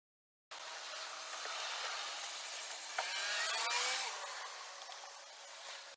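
A power drill drives screws through a wooden backer into the backs of shelves on a custom built-in. It makes a continuous close whirring drone for about five seconds that rises and strains midway, then stops abruptly.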